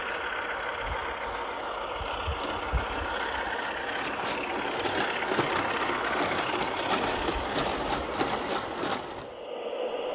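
A model diesel railway engine rumbles steadily as it moves off, a continuous mid-pitched engine drone with faint clatter, fading and cutting out near the end; no voices.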